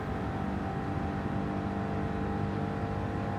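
A Mustang GR4 engine revs in a mountain racing game, droning loudly and steadily with layered harmonic whine that holds throughout the short stretch.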